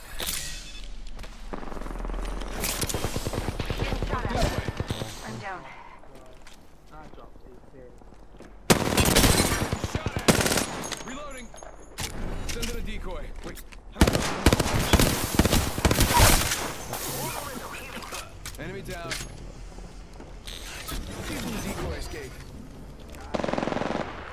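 Video game gunfire rattles in loud, rapid machine-gun bursts separated by quieter stretches, with a voice talking at intervals between and over the shooting.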